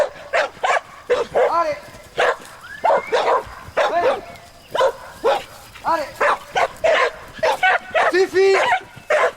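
Several dogs bark and yip in quick repeated bursts, close and loud, with a voice calling and talking over them in a mountain setting.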